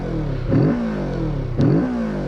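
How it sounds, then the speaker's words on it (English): A Kawasaki Z650 motorcycle engine idles then revs twice in quick bursts, each rising growl of induction and exhaust noise followed by a settling rumble, close and loud. "I can hear this sort of induction of air and then the raw noise from the exhaust"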